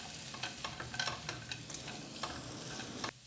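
Roasted peanuts being stirred into a puffed rice chaat, heard as quiet, close rustling and scraping strokes in an irregular rhythm, with soft crunchy taps and no talking.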